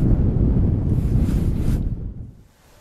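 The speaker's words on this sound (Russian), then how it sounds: "Сильно здоровый ветер поднялся." Strong wind buffets the microphone beside a still-water lake during spring zander fishing, a loud low rumbling roar that gusts for about two seconds and then drops away to near quiet.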